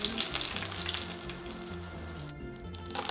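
A scallion pancake fries in a hot pan with a steady, close crackling sizzle that carries on unbroken under a low background hum.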